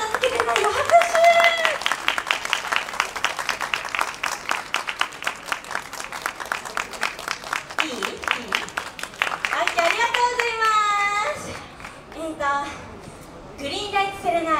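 Fans at a live idol performance during a zombie night event clap in a fast, regular rhythm. Singing and high, lively voices run over the clapping, which thins out near the end.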